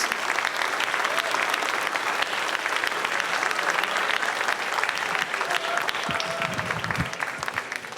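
Sustained audience applause for veterans at a town veterans ceremony in Orange, Connecticut, a dense steady wash of many hands clapping throughout, fairly loud and close.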